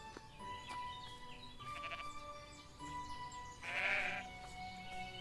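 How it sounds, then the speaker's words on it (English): A sheep bleats in the farming video game Everdream Valley, one clear wavering cry rising over soft ambient game music and faint tones. "Sheep!"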